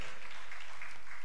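A church congregation clapping for the Lord during a Sunday service; a brief burst of dense, even clapping from many people in a reverberant hall, with no clear speech over it.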